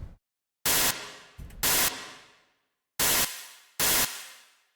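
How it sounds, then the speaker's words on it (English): Synthesized hi-hat made in the Phase Plant synth, struck four times in an uneven pattern, each bright, noisy hit trailing off into a long reverb tail before the next. "I'm gonna put some reverb on this so I can make a tail for the hi-hat"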